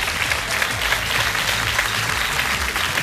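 A studio audience at a televised singing and imitation casting show claps in a dense, steady burst of applause that stays loud and even for a few seconds, with no voices rising above it.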